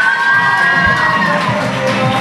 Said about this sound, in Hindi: सोमिया नवाब के लिए चीखें हो जाएं